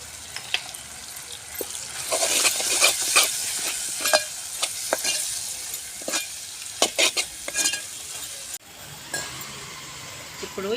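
Keema curry frying in a pan after chili powder is added, with sizzling and the scrape and clatter of a spoon stirring in irregular bursts, close and fairly loud.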